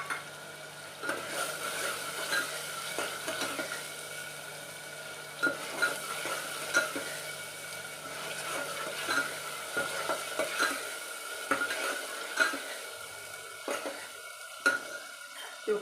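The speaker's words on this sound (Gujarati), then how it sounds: "એમાં આપણે તુવેર નાખી દઈશું" Pigeon peas (tuvar) sizzling in a pot while being stirred, with a soft hiss beneath repeated scraping and clinking of a spoon against the metal, close and fairly quiet, no voices.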